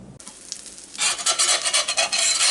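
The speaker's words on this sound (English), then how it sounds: "a fish spatula because it's nice and thin to get underneath them good" A thin fish spatula scrapes under corn fritters in a cast iron pan. A quiet start gives way to loud, rhythmic rasping strokes against the iron.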